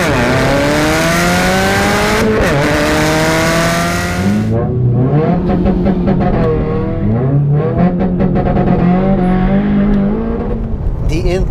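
A Stage 2 Subaru WRX running E85 with a straight pipe exhaust and turbo, loud and close as it revs, climbing and dropping through repeated pulls with a raspy exhaust note, while a voice talks over it.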